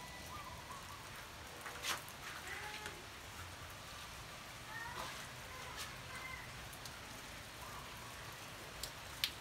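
Light rain patters steadily outdoors among garden plants, a soft continuous hiss with scattered faint drips and occasional quiet background sounds, no wind.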